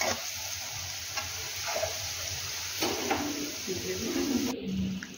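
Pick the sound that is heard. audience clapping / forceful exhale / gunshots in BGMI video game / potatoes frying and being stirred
potatoes frying and being stirred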